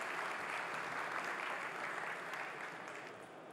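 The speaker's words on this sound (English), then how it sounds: "Please give her a big round of applause again" Sustained audience applause at a tech conference talk, a dense, even wash of clapping heard at a distance and fading slightly toward the end.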